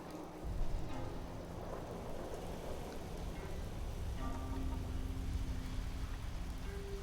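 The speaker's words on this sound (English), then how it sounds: "Let's see if we can wait out the storm." Steady storm rain hisses throughout, with low rumbling thunder underneath, in the Fallout 4 video game during a survival playthrough; a continuous wash of weather with faint tonal sounds in the background and no talking.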